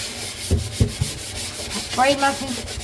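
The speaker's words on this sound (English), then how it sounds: "So I'm scrubbing." Kitchen cabinets crusted with grime and roach infestation being scrubbed by hand, giving several close rubbing strokes and brief scraping bursts in a quiet room.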